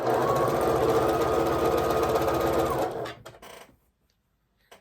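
A sewing machine stitches a quarter-inch quilt seam in a steady rapid mechanical rattle for about three seconds, then stops abruptly with a few faint clicks before silence.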